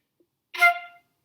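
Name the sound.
marcato accented notes exercise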